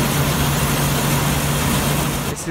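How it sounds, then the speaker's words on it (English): An old combine harvester engine in Farming Simulator 17 idles loudly and steadily with a deep, droning hum, then drops away abruptly at the very end. "This is a properly old combine."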